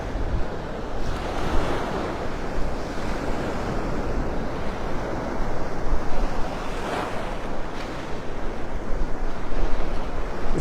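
Gulf surf rolls in at Vanderbilt Beach in North Naples, Florida, whipped up by a northwest wind of 11 to 15 mph, with a continuous loud roar of breaking waves and gusty wind buffeting the microphone, no talking.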